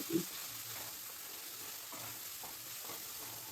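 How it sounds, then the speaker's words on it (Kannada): Ginger garlic paste frying in a pan, a soft continuous sizzle with a few light stirring scrapes, quiet and close. "ಆ ಥರ ಫ್ರೈ ಮಾಡಿಕೊಂಡು ಸ್ವಲ್ಪ ಶುಂಠಿ ಬೆಳ್ಳುಳ್ಳಿ ಪೇಸ್ಟ್ ಹಾಕ್ಕೊಂಡಿದ್ದೀವಿ"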